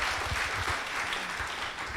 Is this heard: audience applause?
yes